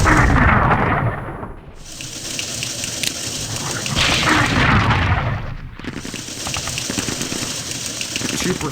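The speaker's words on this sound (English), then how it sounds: "still just standard bombardment, although that one was pretty damn effective" Artillery bombardment in the wargame The Operational Art of War IV, heard as deep rumbling booms and heavy, thundering blasts that swell and roll, loud and continuous, with a brief lull partway through.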